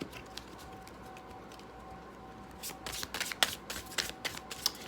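A Golden Universal Tarot deck being shuffled up close, starting with soft riffling and then building into a run of crisp, rapid card flicks and snaps in the second half, with no voices.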